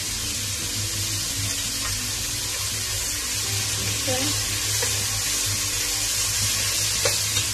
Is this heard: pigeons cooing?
no